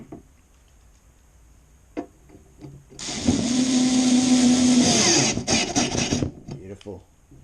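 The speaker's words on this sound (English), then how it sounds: "Get these other screws in." A power drill or driver sinks screws into a bed frame during assembly, whirring loud and steady for about three seconds before stopping, then a few shorter bursts, with quiet handling noises around it.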